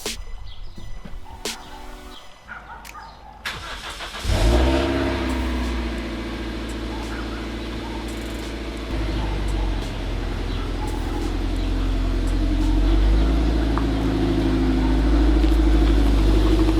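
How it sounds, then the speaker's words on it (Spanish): A Toyota MR2 without its turbo starts and is driven out, its engine turning over after a few clicks and settling into a steady, loud idle and low rumble that builds gradually. "voy a sacar el coche, lo sacamos fuera"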